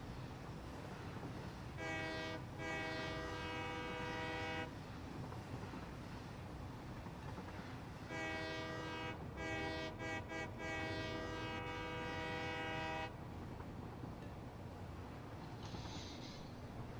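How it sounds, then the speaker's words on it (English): Train running in Satisfactory, two long horn blasts of a steady chord, the second broken by short gaps, over a constant rolling rumble of the moving train. "I love taking the trains around."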